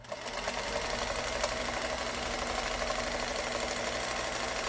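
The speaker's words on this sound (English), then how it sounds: "that's free motion stitching" A sewing machine running fast and continuously while doing free-motion stitching on fabric for a collaged hat, a dense, even whirring buzz that stays close and steady without pause.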